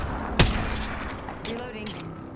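A sharp close gunshot in Apex Legends, followed by scattered fainter shots and battle noise, with character voice lines heard under the action.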